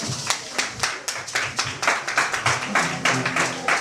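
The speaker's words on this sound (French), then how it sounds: "Acclamez très fort pour la gloire de Dieu" A congregation at a church baptism service claps in steady rhythmic unison, sharp repeated hand claps filling the room at a lively, even tempo, loud and close with no voices over it.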